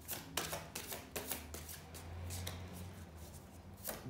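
Tarot cards riffled and drawn during a card reading, a string of crisp broadband shuffling bursts and soft slides in steady bursts, close and moderately loud, with a low hum beneath and no talking.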